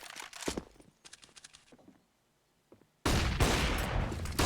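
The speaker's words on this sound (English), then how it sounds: "Disbalance fires blindly into the flash that was placed toward him." Gunfire in the video game Counter-Strike on the Inferno map: short bursts of shots and clattering during the first two seconds, then a brief quiet, then a loud sustained blast of noise.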